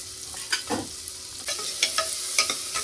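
Chopped onion and kasuri methi frying in oil for a chicken gravy, a close, steady sizzle broken by several brisk stirring scrapes of a spoon in the pan.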